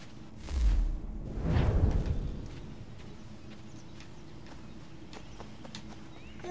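Horse hooves clip-clopping in Assassin's Creed 3, a couple of quick bursts of galloping in the first two seconds, then fading into a quiet background with faint scattered ticks.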